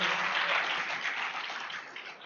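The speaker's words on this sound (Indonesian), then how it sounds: "Aplaus buat Pak Ulung" An audience applauds Pak Ulung at an indoor business seminar, dense steady clapping from many hands that gradually thins toward the end.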